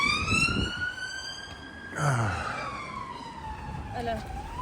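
A police car siren wails nearby, its rising and falling tone sweeping steadily across several seconds, with a brief louder burst of outdoor noise midway and faint background rumble.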